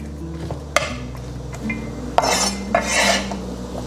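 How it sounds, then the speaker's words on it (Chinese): The back of a metal knife thumps and scrapes on a cutting board, pressing dried scallops, with a few sharp knocks followed by crunchy pressing and grinding sounds close by. "这个干贝的话，我们用这个刀背压一压"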